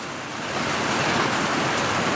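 Rain falls outdoors as a dense, steady hiss that swells slightly and holds, close and continuous with no voices.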